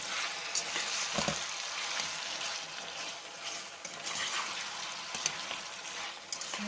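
Dried apricots sautéed with sugar in a pan for a Turkish apricot dessert, a steady close sizzle and hiss with occasional spoon scrapes and knocks, no voices.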